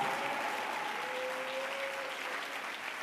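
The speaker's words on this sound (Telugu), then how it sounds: "కొట్టు చప్పట్లు గట్టిగా" An audience at a church gathering claps steadily and loudly, a dense, continuous wash of applause without pauses, heard alone at moderate distance.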